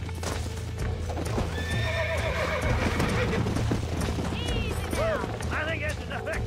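A horse in the Red Dead Redemption video game trots with steady clip-clopping hooves and gives a couple of loud whinnies, under game music and voices talking.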